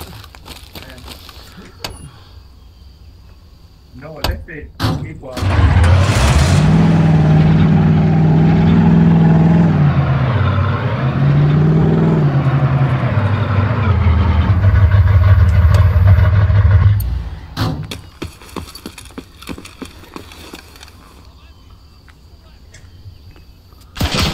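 A heavy truck engine in the video game Arma 3 revs up and drones steadily for about ten seconds, shifting pitch as it drives, then cuts off; scattered clicks and thumps before and after.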